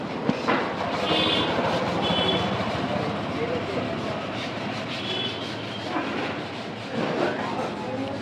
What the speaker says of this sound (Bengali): ট্রেনে পড়েছি যাচ্ছি এখন